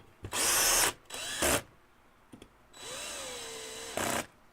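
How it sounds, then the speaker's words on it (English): Power screwdriver driving three screws down to clamp around the piston of an airsoft gearbox, heard as several short whirring bursts with pitch that rises and falls, close up and separated by brief pauses. "I'm tightening down 3 screws to completely clamp around the piston."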